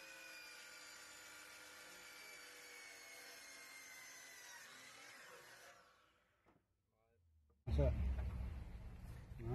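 A saw cuts through a wooden furniture railing from a repurposed fish tank stand, a steady rasping for about six seconds that stops before a louder burst of handling noise.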